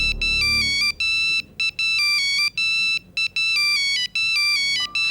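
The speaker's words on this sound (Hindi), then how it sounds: "सर, शिफाली का फोन है।" An electronic phone ringtone plays for an incoming call, a bright looping melodic tone in repeated bursts with short gaps, loud and close, with no voices.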